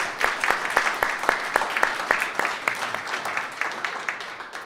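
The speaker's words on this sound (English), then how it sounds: "let's give Bjorn a round of applause as well" A church congregation claps in a loose, fairly regular rhythm, a moderate round of applause for the organist with sharp hand strikes heard close, no talk over it.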